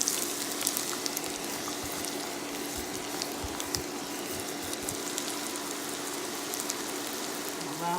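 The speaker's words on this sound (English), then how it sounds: "Allow the onions to saute for a little bit." Onions and garlic sauté in a hot pan with a steady, close crackling sizzle, like light rain, running continuously with small pops throughout.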